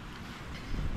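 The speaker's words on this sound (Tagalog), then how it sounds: "Magalaw yung drone kasi lumalaban sa napakalakas na hangin eh." Strong wind roars steadily across a remote campsite in Malico, buffeting the microphone with a broad, rushing noise that swells louder toward the end.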